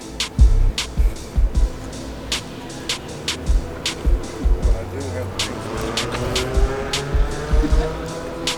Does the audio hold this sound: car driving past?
yes